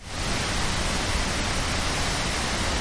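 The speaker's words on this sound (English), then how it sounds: "This is a real nice Bali wind sound here." Wind recorded outdoors in Bali, a constant broadband rushing noise that holds steady and loud throughout with no other sounds.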